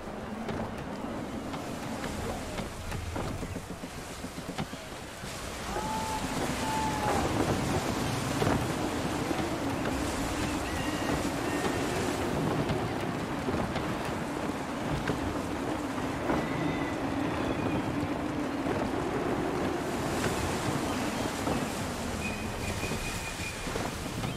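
Gusty wind at sea in Assassin's Creed III roars continuously around a sailing ship, a broad rushing noise that swells slightly after the first few seconds and persists with faint creaks and tones above it.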